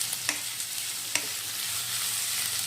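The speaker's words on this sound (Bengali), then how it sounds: "পেঁয়াজগুলো দেখুন গোল্ডেন কালার করে ভাজা হয়ে গেছে" Onions frying in oil over a high gas flame for Kolkata-style chicken chaap give a steady, soft sizzle, broken by a couple of sharp stirring clicks near the start.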